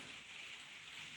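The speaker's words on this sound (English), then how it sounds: "It's just coming on to rain outside." Steady rain falling outside, a soft continuous hiss with a faint patter of drops on surfaces, even and unbroken throughout with no voices.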